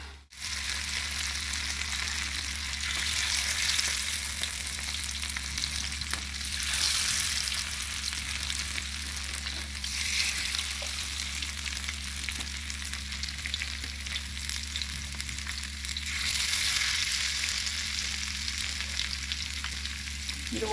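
Fish pieces, including a sankara fish, fry in hot oil in a pan with a loud, steady sizzle for the full twenty seconds. The crackling swells and eases slightly at moments, with no speech over it.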